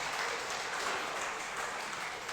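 A church congregation gives loud, steady applause at a Sunday worship celebration, a dense, even wash of clapping that holds for the whole stretch without pause.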